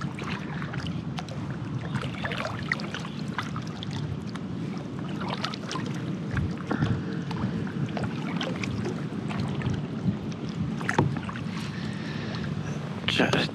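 Paddling a new kayak on open water on a first test run, with steady splashing and dipping strokes over continuous wind rumble across the whole stretch, occasional brief knocks near the end.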